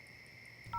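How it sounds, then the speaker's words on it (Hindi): A phone dial tone plays steadily for nearly a second, then a keypad tone sounds at the very end, quiet and close, with no talking. "तुम चिंटू को फोन लगाओ।"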